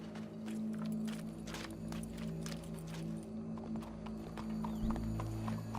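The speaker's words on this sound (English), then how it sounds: "Go brush that horse, officer." Horse hooves clip-clop in Red Dead Redemption 2, a faint, steady walking rhythm of hoof strikes over a low ambient hum, with no voices.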